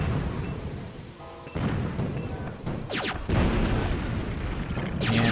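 Bomb blasts in the video game Duke Nukem: Zero Hour, several heavy booming explosions in quick succession amid rumbling game noise, loud and close.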